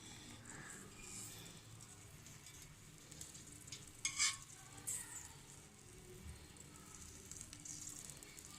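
Garlic sizzles quietly in hot mustard oil, a soft continuous crackle with a few louder pops and stirring scrapes midway, and no one speaking.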